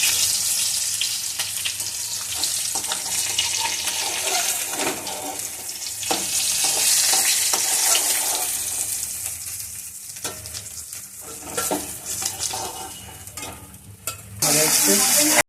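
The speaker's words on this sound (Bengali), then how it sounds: "মাছটা ভাজা হচ্ছে, এখনো ভাজা হয়ে গেছে, তুলে নেওয়া হবে।" Fish frying in hot oil in a home kitchen, a loud continuous sizzle with the scrape and stir of a spatula, and a brief splash and rush of tap water near the end.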